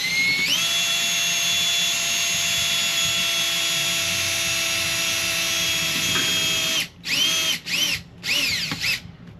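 A power screwdriver drives into RV sheet metal with a steady high whine for several seconds, then stops and gives a few short tightening bursts, close and alone.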